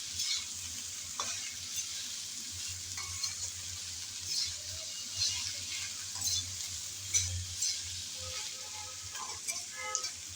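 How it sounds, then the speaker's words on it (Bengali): Taro stolons (kochur loti) stirred in hot oil, a steady close sizzle of frying with scraping stir strokes and occasional light clinks of the utensil against the pan, no voices. "তাই শুরুতে আমি ভালোভাবে একটু তেলের মধ্যে নেড়ে চেড়ে ভেজে নিচ্ছি"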